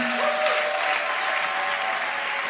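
Church congregation clapping after a pastor's sermon, a steady roomy patter of applause at moderate level with a faint sustained tone beneath.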